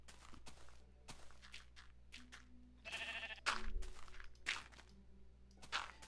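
In the Minecraft video game, sheep give a few wavering bleats spaced among soft footsteps and light thuds, close but quiet, with no talking.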